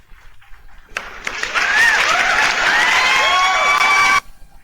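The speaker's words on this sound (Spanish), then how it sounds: "Un aplauso a Jesús, nuestro Dios y Salvador." A church congregation bursts into sustained applause with scattered cheers, loud and steady for about three seconds before cutting off.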